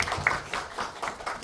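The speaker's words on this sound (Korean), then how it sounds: "박수를 좀 부탁드리겠습니다." An audience at a film screening and director's talk in a small cinema hall applauds with soft, moderately dense clapping that carries on evenly for a moment at a fairly low level.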